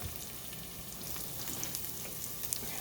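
Chopped vegetables for broccoli cheddar soup sauté in a pot, giving a steady, close, moderately quiet sizzle and crackle with a few small pops, no voices.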